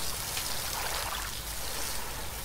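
Water pours steadily from a bucket in the Stranded Deep survival game, a continuous trickling splash that fills the moment at close range with no talking.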